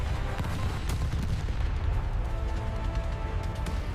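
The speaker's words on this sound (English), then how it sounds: "Explosions turn the jungle into a war zone." Cinematic jungle battle with dense, continuous gunfire and booming explosions, a loud rumbling barrage that never lets up across the whole stretch.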